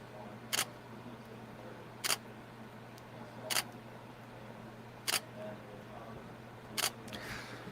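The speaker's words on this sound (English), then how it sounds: "Sorry if I don't talk while I'm taking pictures." A camera shutter photographing model car parts and screws from an Agora Models Ferrari LaFerrari kit, with five sharp, close clicks spaced about 1.5 seconds apart in a quiet room with faint hum.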